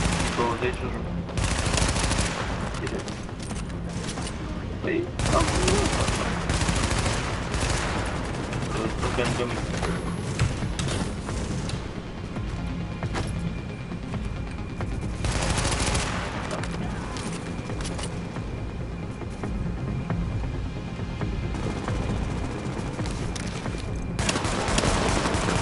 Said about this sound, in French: Je lui tire une balle dans la tête.